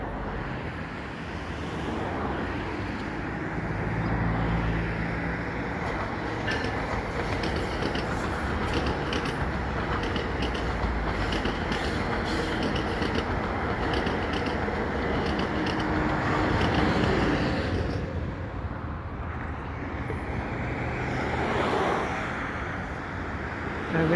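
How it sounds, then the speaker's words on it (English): A CN or Via Rail train passing beneath the St. John's Boulevard overpass at sunset, a broad steady rumble and roar that swells and holds for over twenty seconds, heard from above at a moderate distance. "Looks like a CN or Via train."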